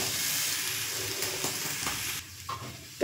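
A spice mixture with grated boiled potato for fish tawa kebab being stirred in a hot pan, a steady close sizzle with scraping spoon strokes and a few sharper clicks near the end.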